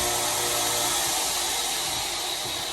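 A power tool grinds steadily during knife making, a continuous loud, harsh whirring that holds nearly constant for a few seconds with no pauses or speech.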